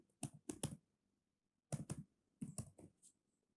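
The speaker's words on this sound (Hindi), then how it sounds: "तो मैं यहाँ पे क्रिप्टो पॉइंट टाइप करके देखता हूँ" Keys on a computer keyboard are tapped as a short phrase is typed, in three quick bursts of close, crisp clicks separated by brief pauses, in a quiet room.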